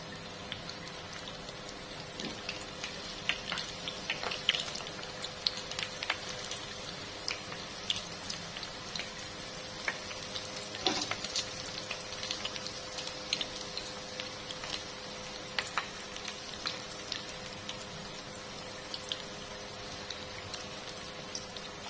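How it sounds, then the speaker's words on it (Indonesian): Sausages fry in hot oil with a steady, dense sizzle and scattered crackling pops, close by and unbroken by speech. "Kemudian setelah minyak panas, goreng sosismu."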